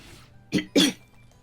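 Two sharp coughs from a throat tickle, close and loud, in quick succession after a moment of quiet, with faint game sounds in the background.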